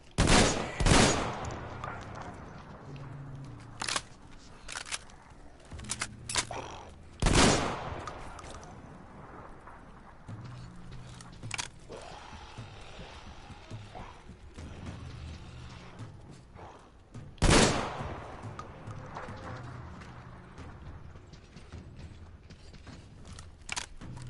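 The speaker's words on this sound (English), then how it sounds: "It is a shotgun. A shambler." Shambler shotgun blasts in Metro Exodus, three loud separated booms spread across the stretch amid clicking, ratcheting mechanical reload and handling noises and quieter game ambience.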